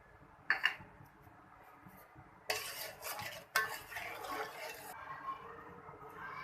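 A spoon stirs a shahi tukray mixture in a pot, giving scattered scraping and clinking bursts of metal against the vessel at close range, with quiet gaps between strokes and no speech.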